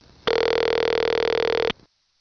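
A St. Thomas electromechanical telephone ring as used in New Smithville exchanges in 1976: one steady, buzzy burst of about a second and a half, loud and close, then a brief quieter tail and silence.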